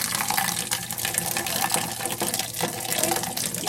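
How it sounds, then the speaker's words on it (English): Tap water splashes steadily and loudly into a sink while a paint palette is washed, a dense continuous rush with no voices. "you can turn it up like this and let the water kind of splash down as you're cleaning"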